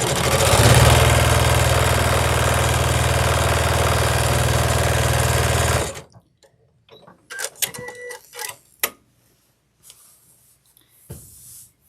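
A sewing machine stitches pieces of a scrappy crazy quilt, a loud steady mechanical whir running continuously for about six seconds, then stopping, followed by quieter scattered handling taps and rustles of fabric.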